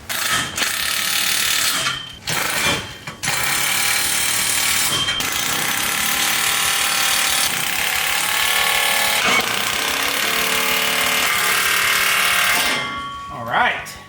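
Ratchet work tightening extra-tight exhaust band clamps on a cammed police car being straight piped, loud continuous mechanical clicking and grinding with brief pauses, dense and close throughout.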